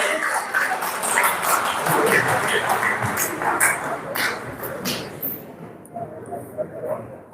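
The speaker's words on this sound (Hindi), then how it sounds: "इनकी ताली हो जाए इनके लिए" Audience at a Constitution Day event in a hall clapping in a dense burst of applause that thins out into scattered claps and dies away, with some talking mixed in.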